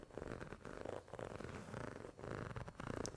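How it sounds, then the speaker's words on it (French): A cat's purring, played back as a recording through a sound card, rumbles steadily and softly in a continuous rhythmic drone with no voices. "je t'envoie un chat qui ronronne"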